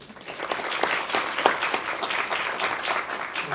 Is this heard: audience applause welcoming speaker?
yes